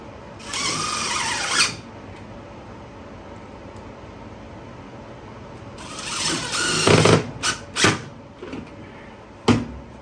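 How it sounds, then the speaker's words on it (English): A power driver runs screws into thicker steel on a box fan dust filter frame, giving two loud whirring bursts separated by a quiet pause, then a few short sharp clicks. "I'm going to run 2 screws through this thicker part of the steel."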